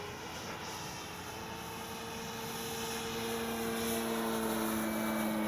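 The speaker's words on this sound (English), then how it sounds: "Notice I'm practicing all my hovering up high." An Avios Extra NG 1600 RC airplane hovers up high in wind, its electric motor giving a steady whining drone with a sustained tonal hum that slowly grows louder, heard from a distance without talk.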